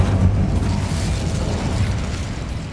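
A fire spell cast in the Hogwarts Legacy video game, heard as a dense, loud, continuous roaring whoosh with crackling bursts that holds steady for nearly three seconds without talk.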